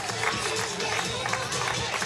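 Crowd noise from spectators at a high school softball game, Fox Valley Lutheran versus Turner, a broad steady wash of distant cheering and chatter through the whole stretch with no clear claps standing out.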